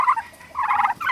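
Turkeys on a homestead gobble close by in three quick, loud bursts of warbling calls separated by brief pauses.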